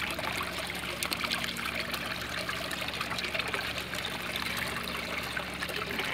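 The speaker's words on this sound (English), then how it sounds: "that made our waterfall sound a lot nicer, right?" Water spills continuously over a small ornamental pond waterfall, a steady close-up trickle and splash with an even, unbroken texture throughout and no voices.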